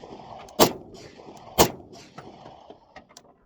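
Three gunshot rounds fired outdoors during a test of AXIL GS Extreme 2.0 ear protection, heard as two sharp, loud cracks about a second apart, then a fainter third report trailing off amid light background noise.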